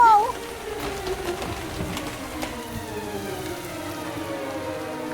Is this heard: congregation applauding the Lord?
no